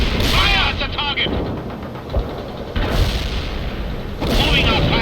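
In the real-time strategy game World in Conflict, heavy gunfire and booming artillery roll almost continuously through a loud battle mix, with radio-style unit voices speaking over the combat.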